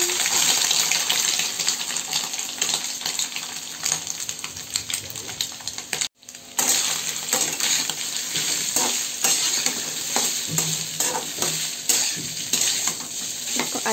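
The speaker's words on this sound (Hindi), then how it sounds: "तेल हो गया है गरम और इसमें हम डालेंगे सोयाबीन।" Soybean chunks fry in hot oil with a steady, loud sizzle that fills the whole stretch, broken by a brief drop midway and scattered clatters of stirring.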